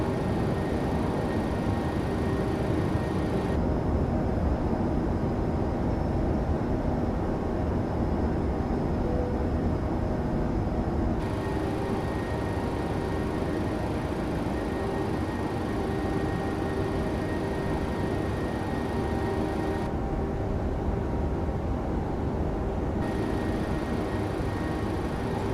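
Steady, unbroken engine and airflow drone of a PMDG 737-700 airliner in flight in a flight simulator, constant and loud throughout with no talking.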